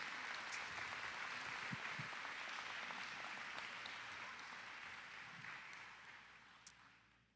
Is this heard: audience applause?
yes